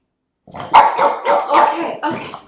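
A dog barks close by indoors in a house, about five sharp barks in a quick, uneven burst after a short silence.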